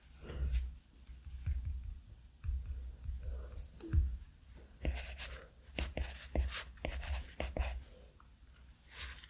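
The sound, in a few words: pencil writing on an iPad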